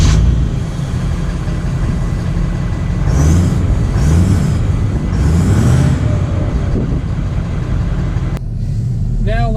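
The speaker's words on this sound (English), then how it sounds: "Now let's set off in the 2019 F-250" A 2019 Ford F-250 Platinum FX4 pickup with a Power Stroke diesel pulls away and drives, its engine note rising and falling over steady, close road and cabin rumble; a voice talks over it.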